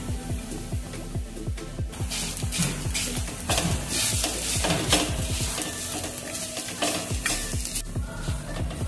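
Khova is stirred into thick sugar syrup for carrot halwa, with constant close sizzling and bubbling under quick, repeated scraping strokes of a spoon against the pan. The stirring runs loud and steady throughout, and no voices are heard.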